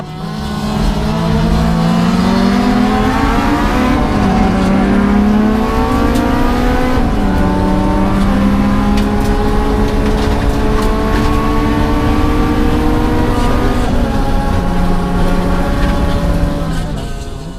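Mitsubishi Evo race cars competing on a circuit, loud engines revving and rising through gear changes, several cars overlapping as they pass close by, sustained and intense.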